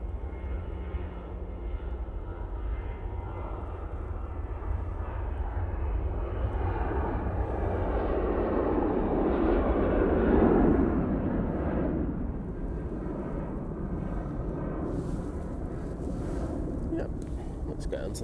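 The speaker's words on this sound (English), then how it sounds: "TUI to Toulouse now. Using 737-800" A TUI Boeing 737-800 departs Manchester Airport bound for Toulouse. Its steady jet engine roar swells to a peak midway and then eases off, blended with wind noise, while people talk over it.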